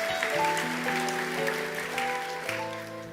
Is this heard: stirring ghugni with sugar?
no